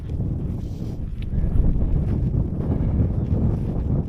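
Steady outdoor wind gusting across the microphone on a breezy, cloudy day on a Wiltshire hillside, a continuous low rumbling roar that swells slightly after the first second and holds without a break.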